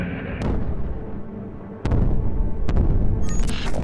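Heavy booming blasts of a HIMARS rocket strike on a Russian position, two sharp loud impacts with rumbling debris and crackle between them, close and harsh.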